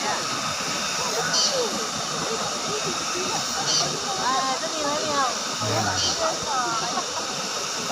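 Steady broadband rush of a waterfall on the Gunung Ledang hiking trail fills the scene continuously, with people talking faintly underneath.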